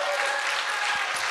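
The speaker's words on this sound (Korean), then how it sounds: "박수 한번 주세요." Church audience applauding at a comedy concert, a steady dense patter of clapping filling the space for a brief moment.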